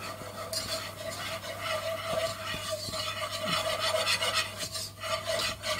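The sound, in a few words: stirring moussaka mixture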